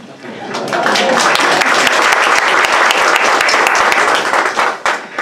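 An audience breaks into loud, sustained applause, many hands clapping densely for several seconds before it begins to thin out.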